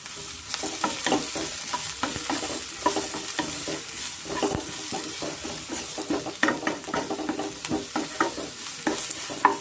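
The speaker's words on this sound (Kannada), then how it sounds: "ಮಶ್ರೂಮ್ ಚೆನ್ನಾಗಿ ಎಣ್ಣೆನಲ್ಲಿ ಫ್ರೈ ಆಗಬೇಕು ಅಲ್ಲಿವರೆಗೂ ನಾವು ಚೆನ್ನಾಗಿ ಫ್ರೈ ಮಾಡ್ಕೊಳ್ಳೋಣ" Mushrooms frying in oil for pepper mushroom rice, a steady close sizzle broken by frequent scraping stirs and clicks of the spoon against the pan.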